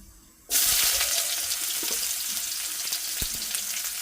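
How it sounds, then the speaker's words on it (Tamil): Onion dropped into hot oil already holding mustard seeds and cumin sets off a sudden loud sizzle that starts half a second in and keeps hissing steadily, with a few faint clinks. "எண்ணெய் வந்து கொதிச்சுட்டு கடுகு சீரம் கொஞ்சமாக போட்டு"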